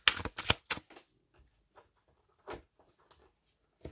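Tarot cards being cut and shuffled by hand, a few quick papery riffles and slaps up close at the start, then softer scattered taps and rustles, with no talking.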